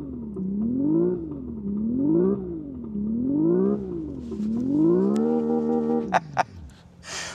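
Synthesized engine sound from the interior speakers of a Hyundai IONIQ 6 N, a loud tonal whine that climbs and drops through several gearshift-like sweeps, then holds steady before a few sharp clicks at the end.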